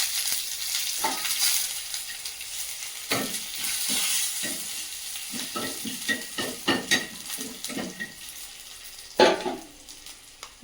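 Dried red chillies, whole cumin and chopped garlic frying in hot oil in a pan, a soft steady sizzle broken by scraping stirs and a louder clatter near the end.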